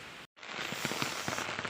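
Steady rain falls on a surface outdoors, a dense continuous patter with scattered heavier drops and splashes, close and fairly loud, briefly interrupted by a short gap near the start, with no talking.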